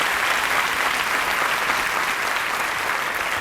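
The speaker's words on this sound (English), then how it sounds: "Let's give them another round of applause." Audience applause at a University of Houston College of Education lecture, a steady dense wash of clapping that runs loud and unbroken from start to finish.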